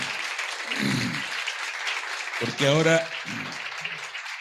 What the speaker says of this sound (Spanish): Les vamos a dar un primer aplauso